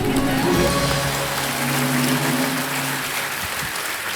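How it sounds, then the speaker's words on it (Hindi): Studio audience applause on a Hindi television quiz show set, with steady dense clapping filling the whole stretch at an even level, faint tonal studio sounds beneath. "बाबूजी ने ताली बजाना शुरू कर दिया है। अब उन्होंने बजाना शुरू कर दिया तो मैं भी बजा।"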